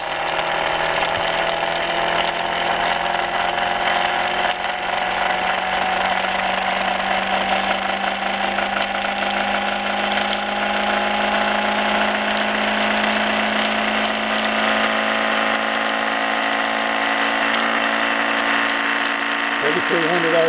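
An improved Thomas motor spinning at high RPM near 4,000, a loud, steady mechanical whine with a ratcheting buzz that holds throughout.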